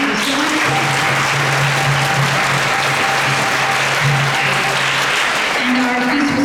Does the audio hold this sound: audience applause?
yes